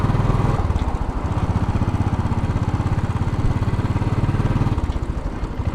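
Royal Enfield Bullet 500 motorcycle riding along Fifth Avenue in New York City, its single-cylinder engine thumping in a steady, fast rhythm, close and loud, with a constant low pulse throughout.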